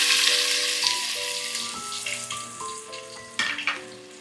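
Chopped onion hits hot oil with browned fenugreek seeds for a Goan-style fish curry, giving a steady close sizzle and frying hiss with faint stirring scrapes throughout.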